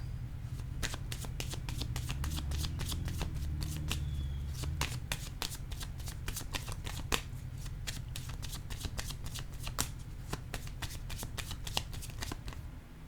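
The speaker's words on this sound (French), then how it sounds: "Allons-y avec une nouvelle carte." A deck of cards being shuffled for a card reading, a rapid run of crisp riffling snaps and flutters up close, with a soft low background hum and no talking.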